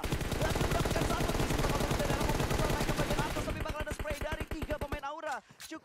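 Rapid bursts of gunfire in a PUBG Mobile esports match, loud and dense at first, then thinning into separate shots near the end, with commentators talking over it.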